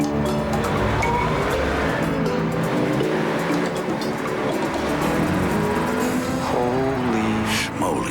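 A Porsche Boxster drives hard with a loud, continuous engine roar and tire noise, accompanied by a backing music bed that plays throughout.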